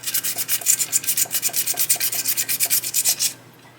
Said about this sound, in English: This is just that same 600 grit wet dry sandpaper.